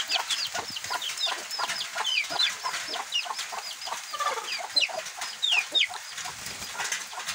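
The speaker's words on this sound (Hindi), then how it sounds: "ये मुर्गी है, ये आज मैंने बंद की हुई है" A brooding hen sitting on a clutch of eggs clucks over and over in short, near, chattering bursts along with throaty calls, set against a quiet rural backdrop after a heavy rainstorm, with no talking.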